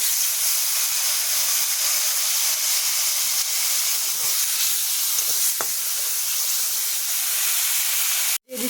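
Ginger and green chili paste sautés in a pan, giving a steady close sizzling hiss that holds throughout with a couple of faint stirring scrapes.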